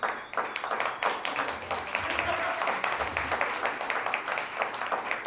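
Audience clapping at a standup comedy show, steady and continuous throughout with a busy room of scattered claps and crowd murmur mixed in.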